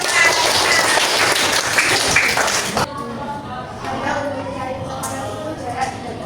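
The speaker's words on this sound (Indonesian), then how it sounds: "Beri tepuk tangan." Students clap in a classroom during a lesson on measurement and qualitative and quantitative observation, a brisk burst of applause that stops abruptly after about three seconds, followed by quieter room sounds and talking.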